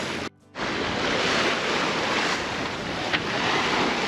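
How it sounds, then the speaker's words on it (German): Rough, choppy water where currents meet at Tahanea atoll in the South Pacific, waves arriving from several directions, churning and slapping continuously under heavy wind rumble, with one brief dropout near the start. "Hier kommen jetzt gerade die Wellen aus mehreren Richtungen."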